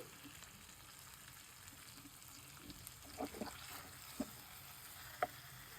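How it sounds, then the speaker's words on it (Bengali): Red chilli and chopped garlic fry in oil while being stirred, a faint steady sizzle with a few soft clinks and scrapes of the spoon near the end. "এখন আমরা লাল মরিচ দিয়ে ভাজা হয়ে গেছে, এখন আমরা দিয়ে দেবো রসুন কুচি"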